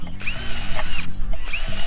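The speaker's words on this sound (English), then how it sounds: "I'm going to drill a bunch of holes in it" A power drill whirs loudly and steadily nearby, drilling holes in a drainage pipe, its motor pitch dipping briefly a few times as the bit bites into the material.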